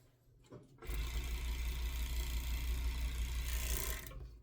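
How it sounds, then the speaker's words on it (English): A sewing machine stitches the short ends of a fabric top, a steady loud motor whir that starts after a brief pause and runs continuously for about three seconds before stopping. "I'm going to sew the short ends real quick"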